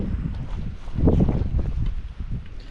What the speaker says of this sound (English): Wind is blowing sideways.